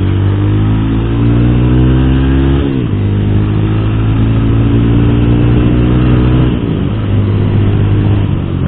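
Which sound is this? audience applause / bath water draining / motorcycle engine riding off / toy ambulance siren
motorcycle engine riding off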